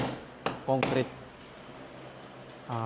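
A hammer tapping the spot for a screw before drilling during a solar inverter and battery installation, with a few sharp knocks early on and brief speech in between.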